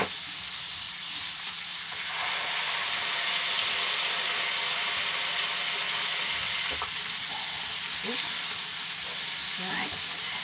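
Homemade Five Guys style beef burgers sizzle and spit on a small grill, giving off plenty of fat; a steady, loud frying hiss runs throughout with occasional crackles and pops near the end.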